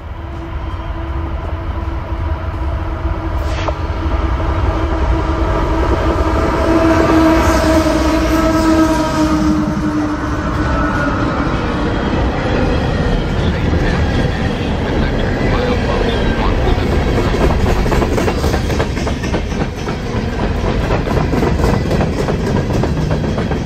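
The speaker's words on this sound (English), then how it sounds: "train number one, a northbound coal train, made its appearance at the cemetery" A northbound CSX coal train passes a cemetery with a loud, continuous roar and rumble of heavy freight cars and wheels on rail. A horn sounds early on, and the noise stays steady throughout.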